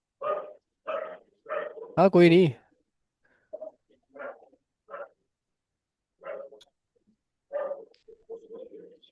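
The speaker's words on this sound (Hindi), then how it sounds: "ये कुत्ते कहाँ भौंक रहे हैं?" Dogs bark somewhere in the distance in short, spaced bursts, with a whining, wavering yelp partway through. The barking is faint against a quiet room, and a person speaks briefly.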